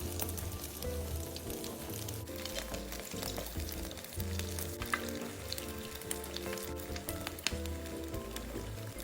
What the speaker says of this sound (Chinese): 油炸至糯米卷金黄色后即可离火